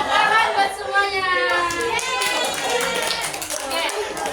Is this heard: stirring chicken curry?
no